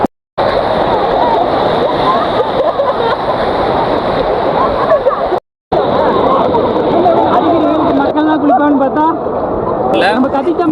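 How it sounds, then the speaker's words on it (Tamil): Friends splash water at a river spot near Vaniyar Dam in Dharmapuri, with continuous close splashing and rushing water under lively overlapping voices and chatter. "தண்ணி தெளிக்கிறோம் பாரு"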